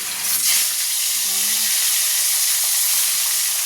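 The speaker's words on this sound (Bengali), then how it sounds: "এইগুলোকে ভেজে নেব" Fresh rohu fish frying in a wok, heard as a loud hiss and sizzle that swells early and then settles into a steady, close crackle, with a brief faint tone partway through.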